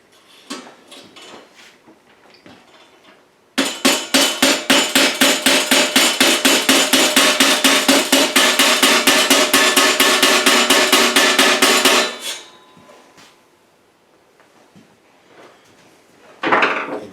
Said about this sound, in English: instead of using a screwdriver, actually use a proper hammer.